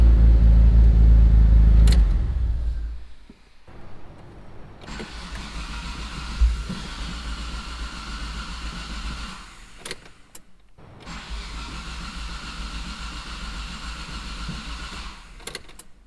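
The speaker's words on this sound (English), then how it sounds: "I just turn it off and see how she starts" A Mitsubishi 3000GT VR4 with the twin-turbo 6G72TT engine idles loudly, then shuts off. After a quiet pause it cranks and settles into a steady idle, dips briefly and catches again, running close and alone without talk.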